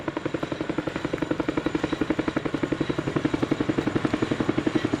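An RAF Chinook twin-rotor helicopter flies a display at the RAF Cosford Airshow 2019, its loud, steady rotor thump beating rapidly over a roaring engine drone throughout.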